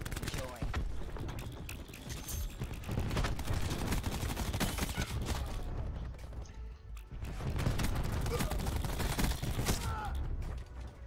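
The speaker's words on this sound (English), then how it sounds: "Cluster grenade. Enjoy." Cluster grenades bursting in a video game, a dense, continuous rumble of overlapping explosions and rapid gunfire for the whole stretch, heavy and loud, with a brief lull partway through and a person talking over the chaos.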